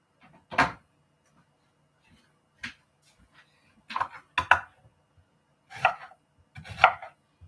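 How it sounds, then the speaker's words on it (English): Knife on a cutting board chopping an onion finely, with six or so separate thuds spaced unevenly across a quiet kitchen. "I'm going to cut the onion pretty finely because I want to be able to eat some of this tonight."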